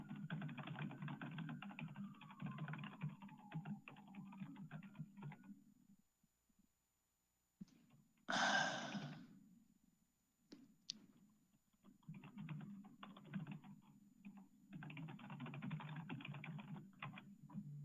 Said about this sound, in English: I hear typing, but I don't think that's him.